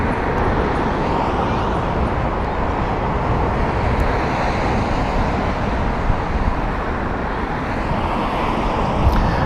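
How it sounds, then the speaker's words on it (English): Lufthansa airliner on the Munich flight at Heathrow Airport, a steady broadband jet roar filling the air continuously, with traffic-like rumble mixed in and no talk. "Lufthansa is our next one. This is the Munich flight."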